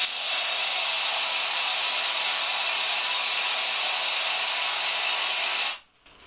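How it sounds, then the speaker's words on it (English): Dry compressed air hisses steadily into a bag around an open underwater camera housing, a loud continuous rushing blast that cuts off sharply near the end. "I'm now going to put some dry air inside. Let's turn the air on"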